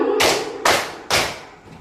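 Three sharp hand claps in a classroom, evenly spaced about half a second apart, each a crisp close slap that fades quickly before the next.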